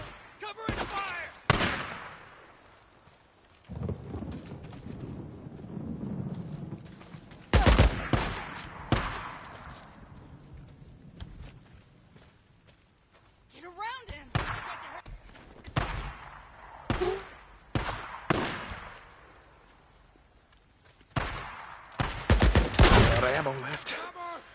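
Gunfire erupts in the video game Days Gone in repeated loud bursts and single sharp shots spread across the stretch, broken by quieter gaps, with shouted voices between volleys.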